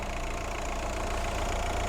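A car's 1.9-litre engine idles steadily nearby with a low, even rumble and no talking.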